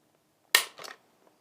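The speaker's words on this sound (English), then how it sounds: "Check the trigger pull weight with our Lyman trigger gauge from Brownells." Trigger of a Walther WMP .22 Magnum rifle pulled against a Lyman trigger gauge, one sharp metallic snap followed by a softer rattling click, close and isolated in quiet surroundings.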